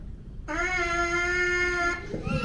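A loud, nasal lip buzz through a trumpet mouthpiece holds one steady pitch for about a second and a half, close up, then cuts off.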